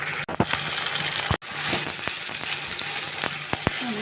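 Ground spice pastes of dried fish, chili, onion, garlic, ginger and cumin fry in hot oil for an eggplant curry, sizzling loudly and steadily with a few sharp stirring clatters and brief pauses near the start.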